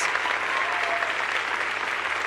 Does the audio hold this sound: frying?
no